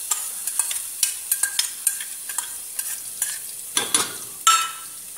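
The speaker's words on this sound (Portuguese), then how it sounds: "Eu vou deixar refogar bastante." Chopped garlic and onion sautéing in oil in a pan, a soft sizzle under a series of sharp, close spatula taps and scrapes against the pan, irregular and alone with no talking.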